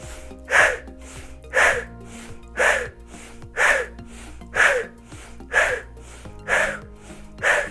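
Repeated sharp, forceful breaths in a paced breathing exercise, eight evenly spaced bursts about one per second, close and loud.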